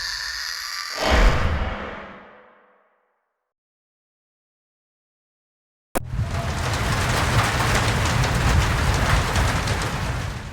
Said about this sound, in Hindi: तेज बारिश की मोटी मोटी बूंदें धीरज के कार पे पड़कर जोरों की आवाज कर रही थी।